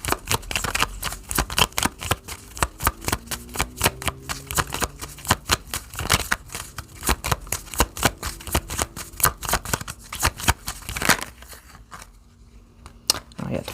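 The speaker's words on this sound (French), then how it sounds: "À moins que je prends le tarot peut-être." Tarot cards being shuffled in dense, rapid riffling bursts that run almost continuously, loud and close, with brief pauses near the end and soft talk underneath.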